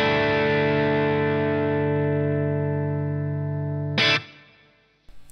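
A distorted electric guitar chord rings out loud and sustained through a miked speaker cabinet via a Universal Audio Ox Amp Top Box, then cuts off abruptly with a brief burst and fading tail.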